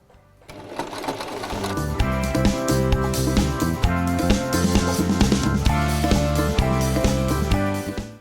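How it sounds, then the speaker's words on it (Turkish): A Singer sewing machine runs a long basting stitch joining the upper and lower collar pieces, with a fast steady mechanical chatter close up, continuous for most of the eight seconds. "bu yardımcı dikişimizi çekerken makinamızın adım ayağını birazcık büyüterek ve bir makine ayağından çekmeye dikkat ediyoruz"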